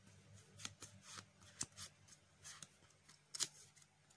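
Yu-Gi-Oh trading cards are shuffled by hand during a warm-up match, giving faint, quick papery riffles and taps in an irregular rhythm over a quiet room, with no talking.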